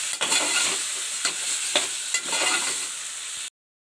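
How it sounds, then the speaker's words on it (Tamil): Chicken, about 300 grams, frying in a pan as it is stirred: a bright continuous sizzle broken by several scraping stirring strokes, close and loud, then cutting off abruptly. "இதையும் நல்லா கிளறிக்குங்க."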